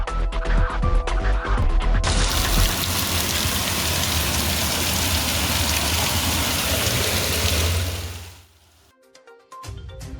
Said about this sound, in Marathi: नाशिक जिल्ह्यात अवकाळी पावसाची जोरदार हजेरी लागली असून बागलाण तालुक्यासह अनेक भागात मुसळधार सरी कोसळल्या